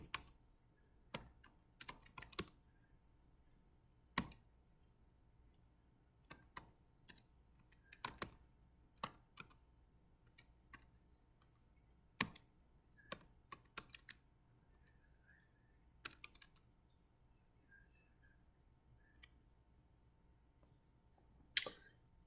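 Command-line input typed on a computer keyboard to set up a Raspberry Pi, sounding as scattered quiet clicks and short bursts of keystrokes with pauses between them, close by, with no talk.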